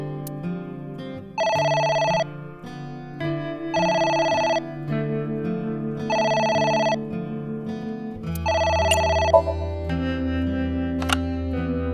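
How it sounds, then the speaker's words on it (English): A telephone in the video game AI: The Somnium Files rings in four evenly spaced electronic bursts over a low background music bed, with no one talking. "It's the phone."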